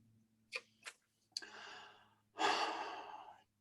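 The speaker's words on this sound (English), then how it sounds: "maybe we could just take a few deep breaths together" A group of people taking slow deep breaths together in a calm setting: two short sharp intakes, then a long audible breath and a fuller drawn-out exhale, close and clear with no talking.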